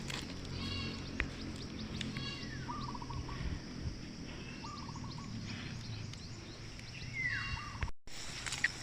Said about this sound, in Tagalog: Sinong mga kambing to?